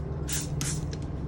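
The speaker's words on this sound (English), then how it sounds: "So I've got my spray bottle," Two quick hissing spritzes of alcohol from a spray bottle, the second longer, followed by a couple of faint short puffs, close and crisp.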